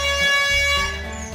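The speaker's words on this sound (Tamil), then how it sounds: "ஹாரன் எல்லாம் அடிக்குது" A toy train at Siddharth Garden and Zoo in Chhatrapati Sambhajinagar sounds its horn, a steady multi-tone honk held loudly and close, fading slightly toward the end.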